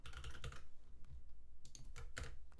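Fast bursts of computer keyboard typing, several clustered keystroke runs with short pauses between them, close and clear with no talking over it.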